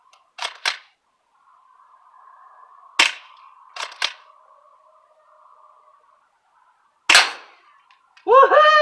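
Low-FPS airsoft shotguns fired at night give several sharp, snappy pops spaced a few seconds apart, some in quick doubles, with a faint steady hum between shots and a brief squeaky sound at the end.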